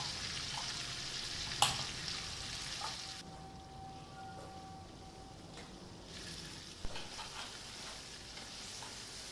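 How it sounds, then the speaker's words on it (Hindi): Chicken karahi with tomatoes cooking in their own juices on low heat, a quiet steady sizzle and bubbling with a few stirring clinks and knocks, no talk. "इसको मैं मिक्स करके और दोबारा ढक के इसको हल्की आंच पे मैं पकने के लिए छोड़ दूँगी"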